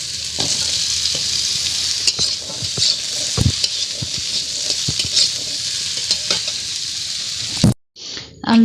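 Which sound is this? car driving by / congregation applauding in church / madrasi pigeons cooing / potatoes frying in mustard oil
potatoes frying in mustard oil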